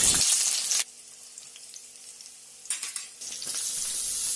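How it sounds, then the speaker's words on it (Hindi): Mustard seeds, garlic, onion and chillies frying in hot oil, with a loud sizzle at the start, a quieter simmer in the middle, and the sizzle rising again as more ingredients go into the pan. "ऑयल गर्म होने के बाद मैं इसमें सरसों ऐड कर रही हूँ। अब मैं इसमें एक पूरा छिला हुआ लहसुन, एक बारीक छोटा कटा हुआ प्याज और 2 मिर्चें डाल रही हूँ।"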